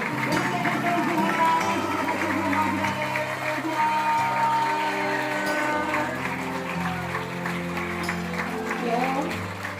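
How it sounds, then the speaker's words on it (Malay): Clapping from a standing crowd at a school retirement ceremony, a dense continuous patter sustained throughout, mixed with music and murmuring voices. "Sama-sama kita berikan tepukan semangat"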